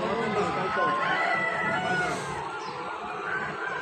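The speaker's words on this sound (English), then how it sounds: "In this building, total 5000 birds are keeping." Chickens fill a poultry building housing about 5000 birds, a dense constant chorus of clucks and calls with a crow rising above, under light talk.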